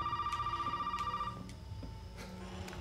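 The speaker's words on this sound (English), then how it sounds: "Oh, the phone's ringing." A telephone rings in Resident Evil 7, a repeated electronic trill that pulses steadily and then fades to a quieter ring, faint and alone with no talk.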